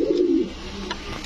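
A rare, unique pigeon lets out a single close, clear coo, a low throaty murmur that fades after a moment with no talking.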